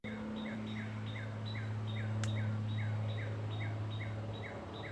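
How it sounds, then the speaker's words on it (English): A bird outdoors along a walking path gives a steady run of about a dozen evenly spaced bright chirps, fairly faint, over a low constant hum. "we're gonna listen to some of the birds that are here with us"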